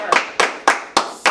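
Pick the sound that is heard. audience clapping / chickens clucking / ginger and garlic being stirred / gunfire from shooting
audience clapping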